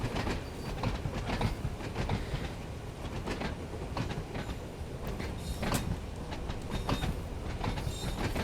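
A train in Train Sim World 5 runs northbound at night on the Isle of Wight, giving a continuous rumbling rail roar with rhythmic clickety-clack wheel beats and faint squeals.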